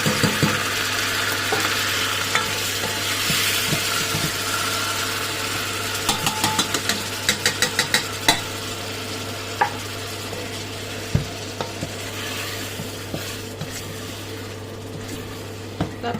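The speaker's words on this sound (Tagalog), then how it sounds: "Binuksan ko yung exhaust fan kasi mausok." A kitchen exhaust fan drones steadily and close at a constant low hum while food sautés underneath with a soft sizzle and occasional clicks and taps, no speech.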